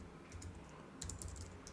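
Rapid clicking of computer keyboard keys during a live Go programming session, in close, steady bursts with a brief pause and a louder flurry near the middle.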